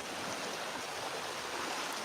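Waves splash where two tides meet on the beach at Walberswick on the Suffolk coast, a steady rushing wash of water that is close, fairly loud and unbroken, with no voices.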